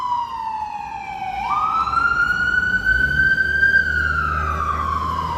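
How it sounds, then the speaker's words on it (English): An emergency vehicle siren wails loudly along a street in Waikiki, its tone gliding down, jumping up and then holding before falling again, with traffic rumbling underneath. "A lot of these guys have their sirens cranking"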